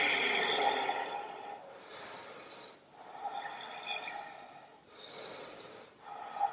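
Slow, deep breaths drawn in and out through the nose while a yoga twist pose is held, several long inhale and exhale cycles, close and alone.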